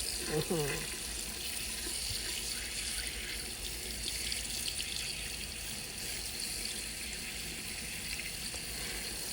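Fish is washed and cleaned under a running kitchen tap: a steady, close rush of water streams into a sink, with faint handling splashes at the start.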